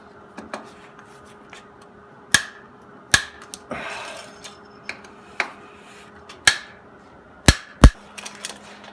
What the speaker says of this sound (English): Got my Park Tool torque wrench.